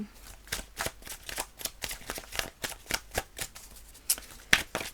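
Tarot cards handled and drawn from a deck give a quick run of crisp papery flicks and shuffling snaps, steady and close, with no voices.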